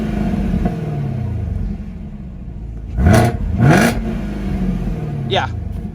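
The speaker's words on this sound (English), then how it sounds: "This is a supercharged V8, okay?" A supercharged V8 in a 2019 Lamborghini Huracan Performante idles with a steady rumble, then revs hard in two quick bursts that rise and fall back to idle, followed by a short higher whine.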